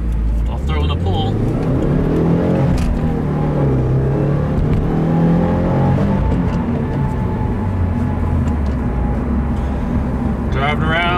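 A 2015 Subaru WRX with a Stage 1 tune drives along, its engine droning steadily from inside the cabin with rising and falling revs through gear changes, while a voice talks over it.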